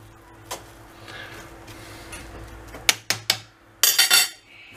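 A spoon clatters against a pot while stirring bread pasta made from stale bread, with a faint scrape early on, then several sharp metallic knocks and a closing burst of clinking, close up and without talk.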